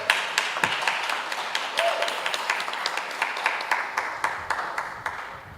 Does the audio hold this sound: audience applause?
yes